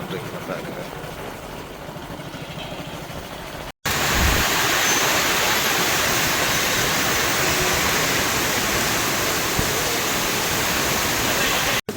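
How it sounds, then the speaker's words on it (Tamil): Water gushing steadily from a motor pump drawing up a well during heavy rain, a loud continuous rushing roar after a brief quieter start. "மோட்டர் போட்டுருக்குது எப்படி தண்ணி வருதுன்னு பாருங்க"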